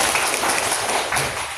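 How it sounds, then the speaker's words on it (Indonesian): Audience applause in a classroom teaching-practice session, dense steady clapping from a group filling the whole moment without pause, fairly loud and close. "Kita tepuk tangan."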